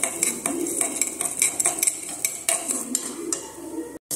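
Asafoetida and chana dal dry-roasted in a pan, with a run of light metallic clinks and scrapes of a spoon against the pan at an even rhythm, close by, over a faint hiss and without talk.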